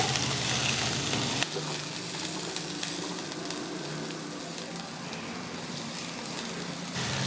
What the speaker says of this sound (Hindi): इसे थोड़ी देर फ्राई कर लेंगे।